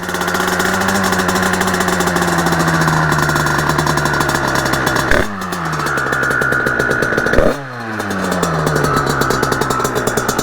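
A Honda HM 86 wheelie motorcycle with an aluminium top end and a too-short transmission runs loud and close, a buzzy two-stroke drone that blips sharply twice before settling back to a steady rasp.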